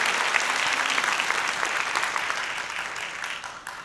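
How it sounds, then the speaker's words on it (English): Sustained applause from an audience at the 2018 Santa Monica State of the City event, steady clapping that gradually fades toward the end. "let's give another round of applause to two fabulous contributors"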